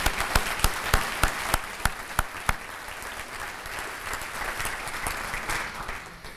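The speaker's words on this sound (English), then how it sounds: "How about a nice applause for them, huh?" At a city State of the City address, a crowd applauds after a few sharp, loud claps open it, settling into a steady, moderate wash of clapping.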